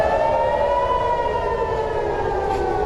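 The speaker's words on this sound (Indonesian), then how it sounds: "Raungan suara sirine adalah peringatan agar warga segera masuk ke tempat perlindungan." A steady wailing civil defense air raid siren in Tel Aviv drones continuously at a loud, near level, its tone holding nearly flat throughout.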